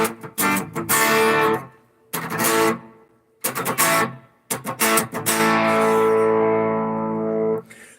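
Electric guitar played through a Boss ME-90 multi-effects unit on a crunch amp setting with hall reverb, loud strummed chords in bursts with gaps, ending on a long sustained ringing chord that trails off.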